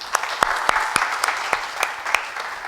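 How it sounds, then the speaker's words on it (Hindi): An audience at a business conference Q&A session in Pune applauds a woman, with sharp individual claps popping out above a steady, moderately loud wash of clapping. "ये मैडम के लिए जोर से ताली बजाना चाहिए।"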